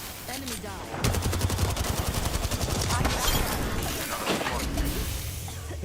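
Rapid bursts of automatic gunfire from the battle royale shooter Apex Legends, dense and sustained with repeated sharp reports, mixed with game effects and a voice speaking underneath.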